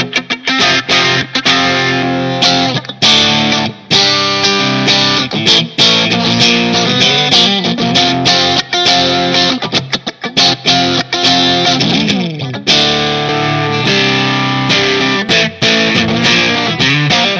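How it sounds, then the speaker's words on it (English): Distorted electric guitar, a Stratocaster through a Line 6 Pod HD500 amp modeler set to a Gibson EH-185 amp model, plays loud chords and riffs continuously, with a thick amplified tone and effects, no voices. "let's hear how it sounds with a Strat with the different pickup selections"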